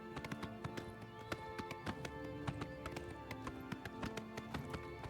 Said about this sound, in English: This is the horse's fast speed